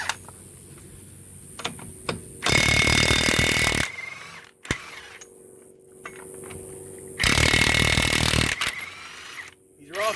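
A Ridgid cordless impact wrench loosening truck tire lug nuts, two loud bursts of rapid hammering, each about a second and a half long, with quieter clicks and handling noise between them.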